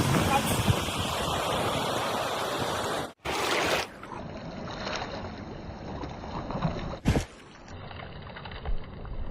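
Steady broadband rush of river water, loud and close, with wind buffeting the microphone and two brief dropouts, no talking.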